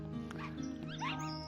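A dog named Rufus in the video game Into a Dream gives a couple of short, high yips and whimpers over a steady musical background hum, close and fairly quiet.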